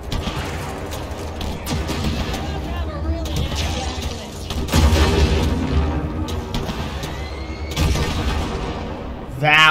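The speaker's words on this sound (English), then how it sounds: "That was an explosion." Explosions and gunfire in the Halo Infinite campaign, loud repeated booms and crashes with bursts around the middle and near the end, layered over game dialogue and battle noise.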